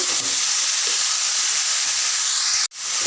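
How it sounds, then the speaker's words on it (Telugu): Bottle gourd pieces stirred into a pan of fried chillies for sorakaya pachadi, a loud, continuous, close frying hiss and sizzle that briefly cuts out near the end. "సొరకాయ ముక్కలు మంచిగా కలిసేలాగా కలుపుకోవాలి"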